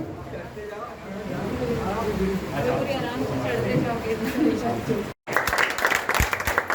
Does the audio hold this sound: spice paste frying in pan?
no